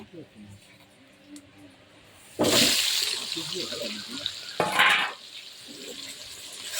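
A sudden loud sizzle as onions hit hot oil, settling into a steady frying hiss with a second burst of sizzling moments later.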